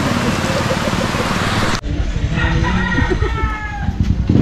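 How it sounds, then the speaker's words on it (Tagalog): Heavy rain pours down outdoors as a loud, dense hiss for nearly two seconds, then cuts to a muffled, softer patter beneath voices talking close by. "Oh, lakas ng ulan."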